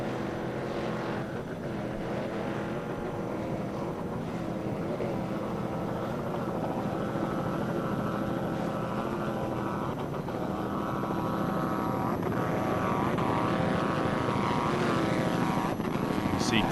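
An offshore V-Light category powerboat races past during a 2006 world championship race in Destin, Florida, its engines a loud sustained roar with a shifting drone that rises and falls, heard up close throughout.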